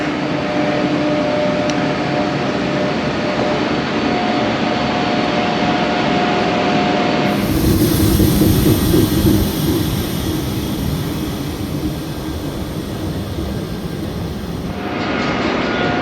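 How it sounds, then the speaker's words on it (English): A train pulls into a station platform ahead of the Orient Express, a steady rumble that swells loudly in the middle of the stretch and then eases back, heard close with no talking. "So I'm just watching a train coming in."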